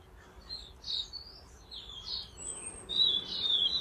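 Several birds chirp and tweet outdoors, bright high calls overlapping and repeating, some near, some farther off, over a quiet background.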